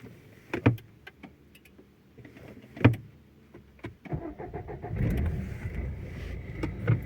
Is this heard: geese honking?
no